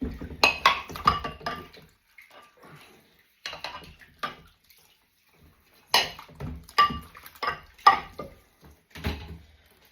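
Bowls and dog dishes are washed by hand in a sink, with bursts of clinking crockery, scraping and splashing water that come in two busy clusters separated by quieter pauses, close by and with no talk.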